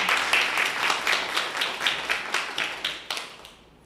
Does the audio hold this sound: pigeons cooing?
no